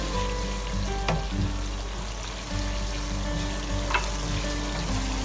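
Masala for a kabab karahi fries in a pan with a continuous, even sizzle, nearby and moderately quiet, marked by occasional soft scraping as it is stirred.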